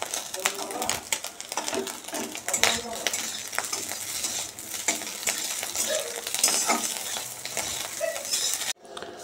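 Fresh fish roe frying in a pan: an ongoing sizzle under repeated metallic clinks and scrapes of a spatula against the pan, close and fairly loud, cutting off abruptly at the end.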